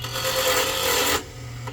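Batik mango wood spins on a lathe as a tool cuts it, giving a steady rasping scrape that holds for over a second, then stops abruptly, leaving a low motor hum.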